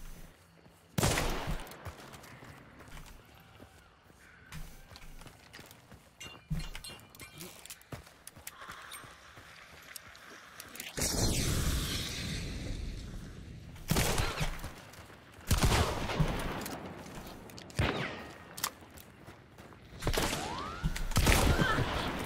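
Gunfire in the video game Hunt: Showdown, with scattered single shots and heavier bursts spread across a tense firefight, alongside footsteps and a player's voice speaking at times.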